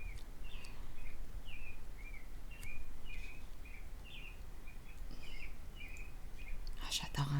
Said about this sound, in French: J'adore entendre les petits oiseaux chanter.